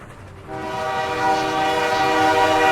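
A loud video game train horn sounds, a sustained harmonic blast that starts abruptly and holds steady, growing slightly louder, with no talking.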